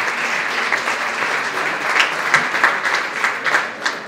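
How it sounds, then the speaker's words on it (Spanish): An audience applauds students at a university presentation in Santiago del Estero: dense, steady clapping from a crowd, fairly close and sustained throughout, swelling slightly near the end with a few sharper individual claps. "un aplauso para los chicos"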